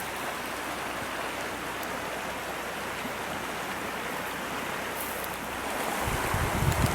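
The Bucking Horse River flows beside a campsite, a steady broadband rush of water, fairly close and even, with a louder rumble swelling in the last second.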